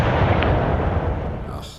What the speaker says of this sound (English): Okay, so let's fire artillery.